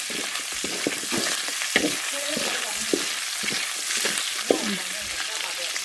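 Dried mullet fish fry in hot oil with a continuous crackling sizzle, broken by occasional louder pops and stirring knocks.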